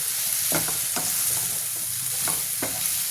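Spiced goat brain fry stirred in a sizzling pan, a steady hiss of frying with several short scraping strokes of the spoon at irregular intervals, close and clear with no voices.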